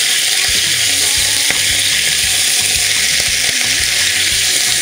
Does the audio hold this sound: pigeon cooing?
no